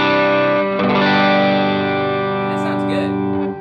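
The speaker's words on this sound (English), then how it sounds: "Turning the gain up on the tube screamer." Electric guitar through a Tube Screamer overdrive pedal with the gain turned up, a thick, saturated distortion tone, a sustained chord ringing loud and up close, alone without voices.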